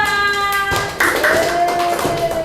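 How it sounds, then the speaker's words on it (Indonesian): Children in a classroom clap for their group, a dense burst of hand clapping that starts about a second in, after a brief tonal sound, and continues steadily to the end. "Beri tepuk tangan buat kelompok 2."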